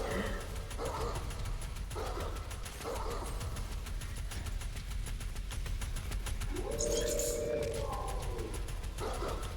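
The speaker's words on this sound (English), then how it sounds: "the dog makes that like woo sound" A dog in Ghost Recon Wildlands gives short, repeated woo-like yelps, followed later by a longer howling whine. The calls are fairly faint against constant game background noise.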